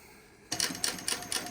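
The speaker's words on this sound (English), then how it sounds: "when I stop sewing, needles always stop on the bottom position" A Seiko LSC-8 cylinder arm walking foot sewing machine with needle feed starts up abruptly and runs in a steady series of regular mechanical beats, fairly close and alone, with no one talking.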